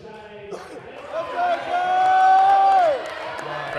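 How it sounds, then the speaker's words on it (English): A crowd at a powerlifting competition, the Volunteer Cup 2024, cheers and shouts, swelling into a loud sustained yell with one voice held high, then fading, with commentary talk around it. "Crowd is getting behind her."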